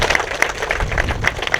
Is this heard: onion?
no